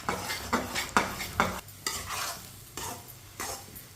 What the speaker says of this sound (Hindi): ये देखिए, अच्छी तरह से मिक्स करना है अंडों को।